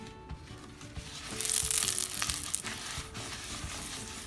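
Oil crackling and sizzling as it is wiped across a hot pot, a steady broadband hiss that swells louder in the middle with a few light scraping touches, no voices.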